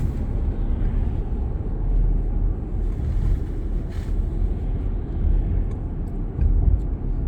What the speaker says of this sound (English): right now we are driving through Iron Mountain, Michigan